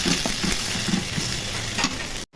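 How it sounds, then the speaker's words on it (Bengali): Ginger and garlic frying in oil make a continuous close sizzle with rhythmic stirring scrapes, ending in a sudden cut to near silence. "আদা রসুন দিয়ে একটু ভেজে নিব।"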